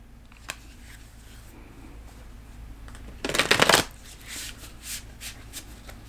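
Tarot cards being shuffled by hand, a brief burst of riffling and flicking that stands out near and clear against a quiet room for under a second.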